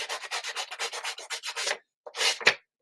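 A small sanding block rubs along the perforated edge of a sheet of scrapbook paper in quick, even back-and-forth strokes, about a dozen close dry scrapes, then a pause and two final harder swipes.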